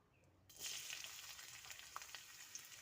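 Onions drop into already hot oil and burst into a sudden bright sizzle, which then settles into a steady, fairly close hiss with small crackles.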